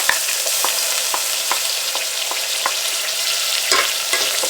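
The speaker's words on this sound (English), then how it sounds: "So my oil is hot. I'm going to add my onion," Half an onion fries in hot oil with a steady, loud sizzle, with regular sharp taps from stirring or a utensil striking the pan at a fairly even rhythm.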